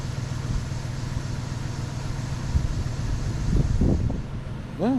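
A 2001 Cadillac DeVille's Northstar V8 with a suspected blown head gasket idles steadily with a rough, skipping low rumble, nearby and moderately loud, swelling briefly near the end.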